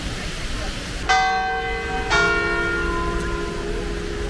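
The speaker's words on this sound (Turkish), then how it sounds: "Demek her saat başı şu çan çalıyor." A church bell in central Paris strikes the hour with two clear, ringing strokes about a second apart, each leaving a long humming decay over steady city background noise.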